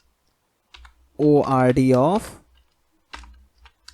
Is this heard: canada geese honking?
no